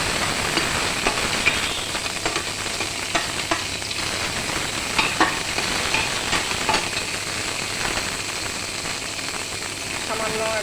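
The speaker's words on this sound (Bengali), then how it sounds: "রসুন মরিচ একটু ভেজে নেব সামান্য" Garlic and chilies sizzle in hot oil in a pan, a steady crackling fry with occasional sharp pops and stirring scrapes, close and continuous throughout.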